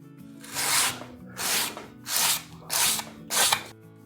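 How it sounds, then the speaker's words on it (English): Five rhythmic rasping strokes of sandpaper on a sanding block scrubbing across wooden model rocket fins, close and even-paced, with short pauses between each pass. "we want to sand our fins"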